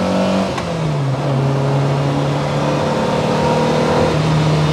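Lotus Elise S1 accelerating at full throttle on a highway, a loud, rising engine roar that climbs steadily in pitch, close and continuous with no talk.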